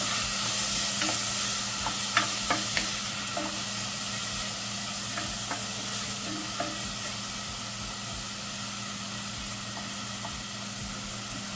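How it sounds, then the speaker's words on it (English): Vegetables with corned beef sauté on low heat in a pan, a constant close sizzle and hiss with a few light utensil clicks, no talking. "I'm gonna saute this about 4 minutes"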